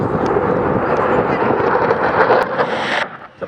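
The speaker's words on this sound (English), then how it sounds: "now in from the left, at low level and high speed, the RAF Typhoon" An RAF Eurofighter Typhoon jet roars past at low level and high speed at an airshow in Wales, a loud, broad, wind-buffeted rush that holds steady and then fades.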